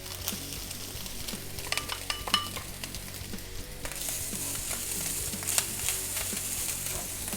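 Onions frying in a pan for a Thanksgiving side dish, a steady close sizzle with occasional utensil scrapes and light clinks as they are stirred, no talk.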